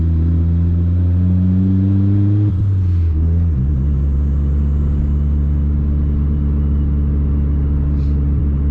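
A turbocharged Honda Civic's D16Y7 engine, untuned, drones loudly at low revs, its pitch sagging and struggling as it bogs down, then settling into a heavy, labored rumble close by.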